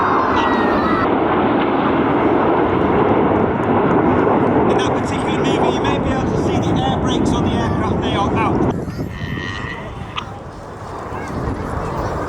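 Red Arrows display jets roaring past in formation at the Midlands Airshow, a loud broadband jet rush that fades after several seconds, with an announcer's voice speaking over it.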